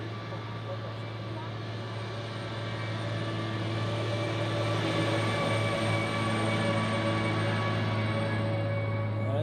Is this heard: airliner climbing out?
yes